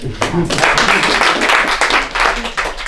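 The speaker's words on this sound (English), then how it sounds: "Clap for Shiro, it's a good thing." Small group clapping at an informal forex meet-and-greet, a loose burst of handclaps mixed with voices talking over it.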